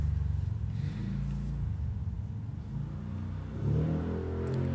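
A vehicle engine revs with a steady low rumble, swelling louder near the end as the throttle rises, heard fairly close with no talk over it.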